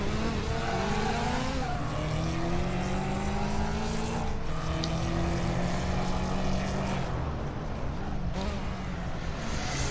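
Racing car engines in a motorsport video game, a steady loud drone with rising and falling pitch sweeps as cars accelerate, including one car's wheel spin, continuous throughout.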